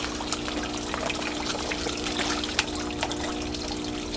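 Aerators in an aquaponics tank holding blue tilapia keep water trickling and splashing steadily, a continuous close bubbling wash with a low hum underneath.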